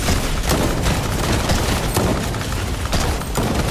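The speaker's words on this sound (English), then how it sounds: "Slow ass shotgun." Shotgun blasts in the video game Fortnite fire in a rapid, loud volley of sharp booms with a few brief gaps, close up and with almost no talk.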